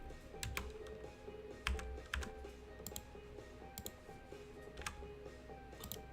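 Computer keyboard keys pressed in short, irregular clicks with a few louder taps, close by over a steady low room hum, no talking.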